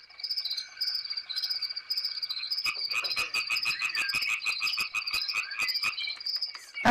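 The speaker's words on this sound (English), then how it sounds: "My goodness, those insects are very noisy." Dense chorus of insects trilling steadily outdoors beside a library, with frogs croaking in rhythmic pulses joining from midway, loud and continuous throughout.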